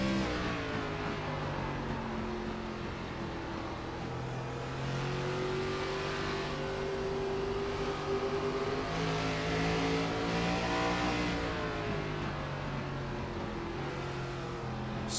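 An on-board race car engine at Indianapolis Raceway Park drones and revs through shifting gears during a Midwest Elite race, the pitch rising and falling as the throttle eases off and comes back on, loud and continuous with no speech.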